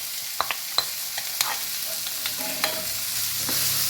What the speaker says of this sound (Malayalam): ഇത് രണ്ടും ഇതിലോട്ട് ഇട്ട് ഒന്നുകൂടി മിക്സ് ചെയ്യാം